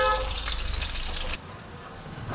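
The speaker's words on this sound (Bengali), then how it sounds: "এবার এটা ভালো মতন একটুখানি ভাজা হোক।" A dried red chilli and chopped green chillies fry in hot oil in a pan, giving a steady bright sizzle that drops abruptly to a quieter, softer crackle partway through.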